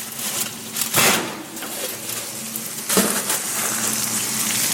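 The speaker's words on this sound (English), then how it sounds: "Can you hear the sizzle? The sizzle." Baked cauliflower topped with pesto and cheese sizzles steadily just out of the oven, a close, continuous crackling hiss with a few louder bursts.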